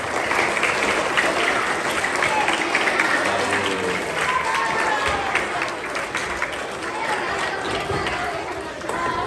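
Audience applause for a teacher during a chapel gathering at a Baptist institute, a steady crowd of clapping hands sustained throughout, dense and fairly loud, with some chatter mixed in.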